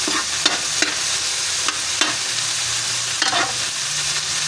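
Tomatoes with onions sauté in a pan before fried tilapia goes in, a close, constant sizzle broken by several spatula scrapes and stirs.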